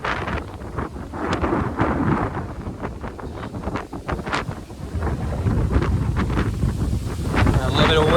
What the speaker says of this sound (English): A little bit of windy here.